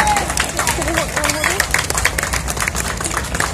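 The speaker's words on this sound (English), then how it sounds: "Can we just give God a hand clap out here this evening?" An outdoor crowd at a National Night Out gathering for the 49th Precinct claps hands in a dense, continuous patter of many people, with voices and crowd chatter mixed in.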